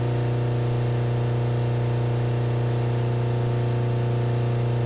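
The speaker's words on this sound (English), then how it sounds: "It's revving down." A car engine in the driving game BeamNG.drive on an Ibishu Kashira ZX 3.5 AWD hums steadily at a constant low pitch, a loud droning tone with strong harmonics and no audible rise or fall.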